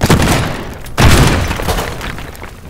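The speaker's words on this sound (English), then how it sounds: "Oh, it blew up there." Explosions in the destruction game Teardown, two heavy booms with crashing, shattering debris: a first blast at the start, then a second louder one about a second later that slowly fades.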